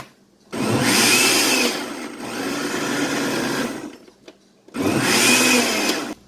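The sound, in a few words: blender crushing unripe plantain for porridge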